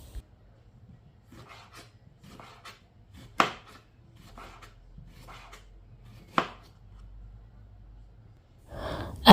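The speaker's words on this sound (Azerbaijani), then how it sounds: "bir böyük pomidoru da yarım dairə şəklində doğrayıram." A large tomato is sliced into half-rounds on a cutting board, a series of soft knife chops at a steady pace with a few louder knocks, close and clear in a quiet kitchen.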